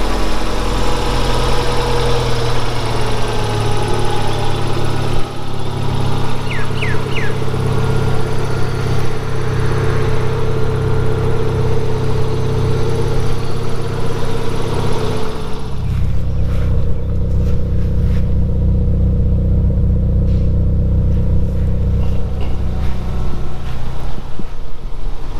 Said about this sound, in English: that's the standard idle and it's sitting at around 800 RPM